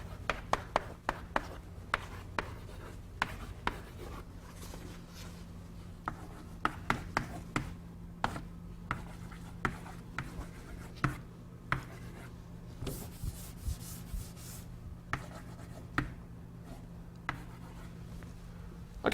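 Marker or chalk strokes on a board as a pipeline diagram is drawn for a computer architecture lesson, sharp scattered taps and short scrapes across a steady low room hum, with no talking.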